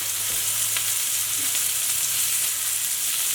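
Chicken wings sizzle and fry in hot oil in a wok, a steady, loud crackling hiss with occasional sharper pops, heard alone with no talking.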